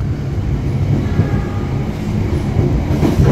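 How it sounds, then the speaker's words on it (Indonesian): A Kaligung passenger train rumbles past at Weleri station in Indonesia, a steady, loud, close roar of wheels and carriages with faint rhythmic clatter throughout. "Jadi kereta api Kaligung disusul kereta Gunung Jati di stasiun Weleri."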